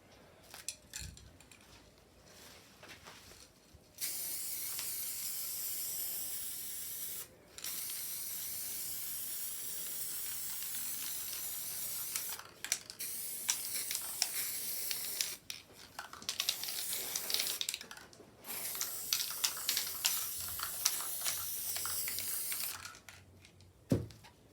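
Long bursts of Liquitex Professional Spray Varnish hissing steadily from an aerosol can, stopping and restarting several times, with short rattling clicks of the can between sprays.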